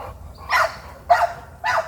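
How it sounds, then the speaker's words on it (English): A big American bully dog barks three times, loud and close, with short pauses between the deep barks. "Big American bully."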